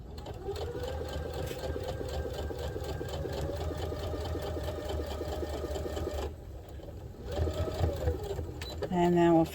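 A sewing machine stitches a cotton fabric scrunchie keychain, running in a steady mechanical whir for about six seconds, pausing briefly, then starting again for a shorter burst before a few closing clicks, loud and close.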